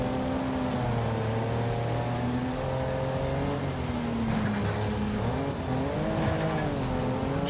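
Race car in a racing video game accelerating hard, a steady loud engine drone with rising and falling pitch as it revs, tires briefly squealing near the end, no talk.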